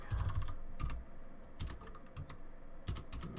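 Rapid clattering keystrokes on a small computer keyboard, close and fairly loud, with short pauses between quick bursts of typing and no talking.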